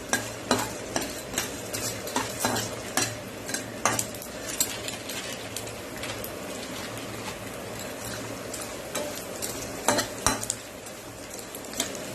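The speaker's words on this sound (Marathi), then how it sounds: "आता हे तूप भाजलं ना मग आपण हे डिंक त्यात टाकणार आहोत." Gum resin (dink) stirred and fried in a cup of ghee in a pan, giving a steady soft sizzle under repeated sharp clinks and scrapes of a spoon against the metal, close and moderately loud, with no talking.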